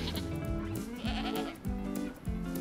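Goat bleats in the survival game DayZ: a series of wavering, nasal calls repeated roughly every half second, close and fairly loud over a steady ambient background, with no talking.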